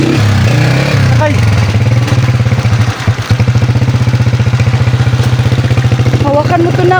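A motorcycle-tricycle engine idles loud and close with a fast, even chugging pulse and a rattling clatter, revving slightly partway through.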